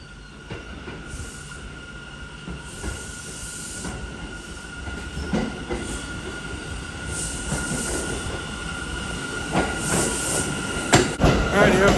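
A New York subway A train pulls into Broad Channel Station, with a steady rumble, clattering wheels and high squealing that grows louder and nearer as it arrives, plus a faint voice.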